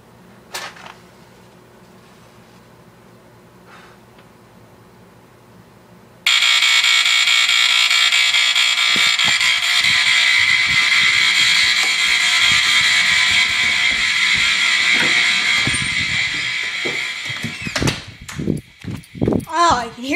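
A smoke detector set off with lit matches sounds a loud, continuous shrill alarm that starts abruptly after a quiet stretch and keeps going steadily. People talk over it near the end.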